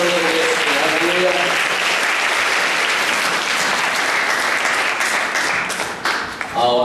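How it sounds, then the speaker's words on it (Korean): Sustained applause from a church congregation during a Sunday worship service, a dense, steady wash of clapping that fills the room and holds loud throughout, with faint organ or keyboard tones running beneath it. "우리 하나님께 영광의 박수 올려드리겠습니다."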